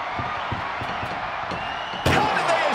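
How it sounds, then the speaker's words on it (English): A heavy metal ambulance door slams shut in a WWE 2K24 wrestling match, one loud sharp bang near the end after a stretch of busy game noise and faint thuds. "Trying to at least slam one door shut"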